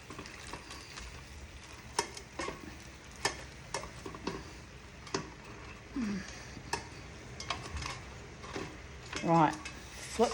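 Food sizzles steadily in a pan over a cooking session, with scattered utensil taps and clicks punctuating a soft continuous frying hiss at moderate distance.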